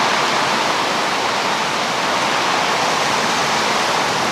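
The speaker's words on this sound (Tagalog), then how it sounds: "Lakas ng ulan." Dense, constant roar of heavy rain on a minivan, a loud unbroken wash of noise with no voices.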